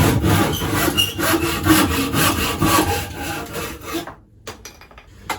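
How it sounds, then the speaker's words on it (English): A hand saw rips along the grain of a board, rasping in a steady back-and-forth rhythm for about four seconds, close and loud, then breaks off into a few quieter scrapes and knocks. "you can of course saw down the grain of wood"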